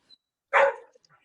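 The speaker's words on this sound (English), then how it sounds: "I actually have a dog who's barking right now in the back" A dog gives one short, sharp bark that stands alone in otherwise near silence, sounding slightly distant.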